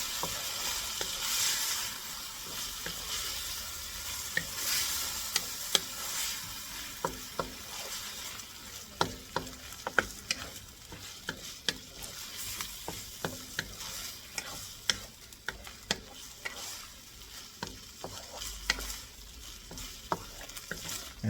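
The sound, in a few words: shrimp stir-frying in a pan for pancit bihon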